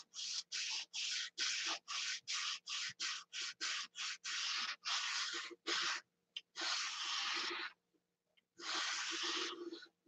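A scratch is sanded out of a primed carved piece with quick, rhythmic rubbing strokes, a dozen short passes followed by several longer sweeps, close and clear against silence.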